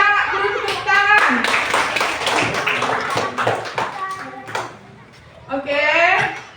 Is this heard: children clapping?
yes